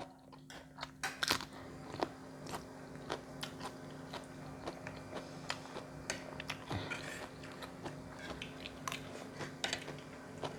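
Fresh raw vegetables are eaten with fermented soybean chili paste, giving close, crisp crunching bites and chewing that come in irregular bursts, with small clicks and mouth noises between them and no talking.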